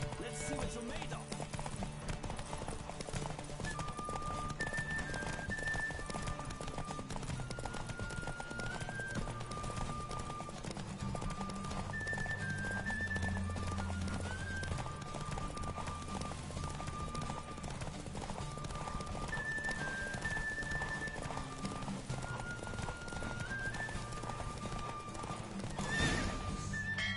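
Roach, Geralt's horse in The Witcher 3, gallops hard through a race, steady hoofbeats running throughout with occasional whinnies, under a continuous layer of game music.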